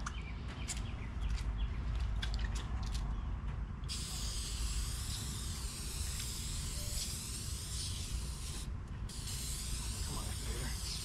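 An aerosol can sprays activator onto hydro dipping film for skateboards, a steady hiss in several short bursts and then one long spray over a constant low background hum.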